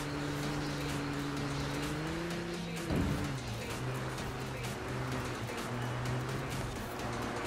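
Ford Coupe 1932 drifting in Forza Horizon 4, engine droning steadily with a sharp tire squeal and skid burst midway, then the engine note settling back to a sustained hum.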